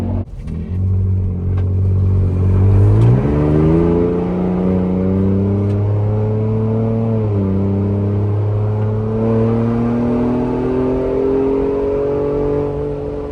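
A stock Ford Bronco SUV on oversized tires revs up through rising gears onto the interstate, pitch climbing, dropping at shifts, then settling into a steady cruising drone, loud and close.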